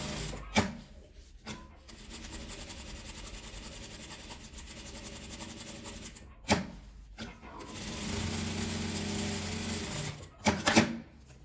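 A sewing machine, used with a drinking-straw sewing trick, runs in short stitching bursts between pauses and handling clicks, with someone talking quietly between runs.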